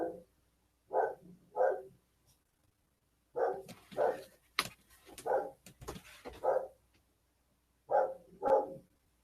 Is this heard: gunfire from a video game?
no